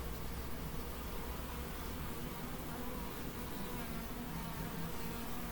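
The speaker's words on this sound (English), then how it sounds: "Like that one bee that just went by, it's much noisier. I think that's a drone." Honeybees at an open hive fill the air with a dense, steady buzz, including a drone bee flying past, the droning continuous and close throughout.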